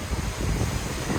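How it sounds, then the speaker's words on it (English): Gusty wind buffets a garden microphone in a continuous low rumble, loud and close, with no voices over it. "It's just so windy."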